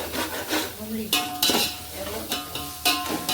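A vegetable mix fries in a pan for ghee rice, loud close sizzling with scraping stirs and metallic clinks of a spoon against the pan in irregular bursts.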